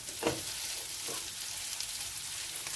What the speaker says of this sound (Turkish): Patateslerle birlikte iyice kavuruyorum.